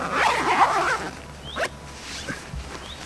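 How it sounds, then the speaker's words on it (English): A zip being undone on the mosquito net of a hooped bivvy tent, with a long rasping pull followed by a few short tugs and faint handling rustles, close by. "So if I undo this zip and now do the system up"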